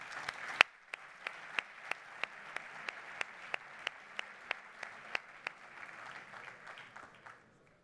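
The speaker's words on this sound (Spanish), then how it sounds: "Un fuerte aplauso." Applause from an audience at a medical profession convention opening keeps a strong rhythmic beat, sharp regular claps over a continuous clapping wash that fades out at the end.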